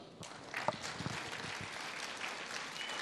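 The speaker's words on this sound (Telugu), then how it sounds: "ఒకసారి వీళ్ళకి క్లాప్స్ ఇద్దాం." Audience applause at a business networking meeting, a steady crowd-wide wash of clapping that starts quickly and holds at an even level throughout.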